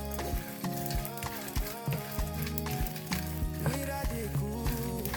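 Fish toasting in a hot pan gives a steady, close sizzle and crackle with occasional stirring knocks, over a tonal musical background.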